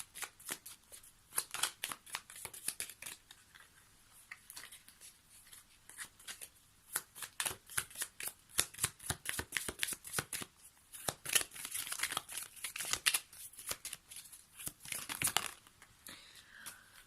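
Tarot cards shuffled by hand in a quiet room, a dense run of crisp riffling slaps and papery flutters that keeps starting and stopping, close and fairly soft.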